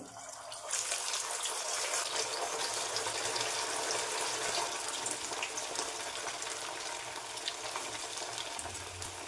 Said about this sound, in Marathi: तेल चांगलं कडकडीत गरम झालेलं आहे हे रोल तळून घेऊया